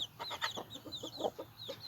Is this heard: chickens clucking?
yes